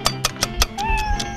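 A small group of cats meows in quick succession, with several short, close, distinct calls in a little over a second and no talking.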